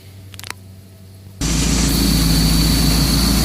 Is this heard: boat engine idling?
yes